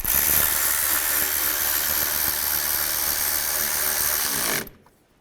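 Power ratchet running on an exhaust manifold bolt of a Chevrolet Trailblazer, a steady close buzzing whir with faint clicking that runs for several seconds and then cuts off abruptly.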